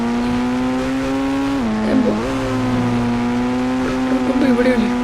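Car engine in the Indian Bike Driving 3D video game: a steady, loud, buzzing motor drone with a brief pitch dip partway through and a few rough scraping bursts, sounding near and continuous.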